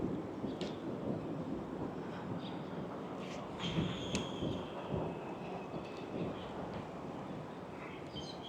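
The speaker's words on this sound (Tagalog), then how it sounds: "Grabe yung hangin." Strong wind buffets a microphone during a bike ride in a Taipei sports park, a rumbling, gusty roar of low-pitched noise that surges and fades continuously at close range.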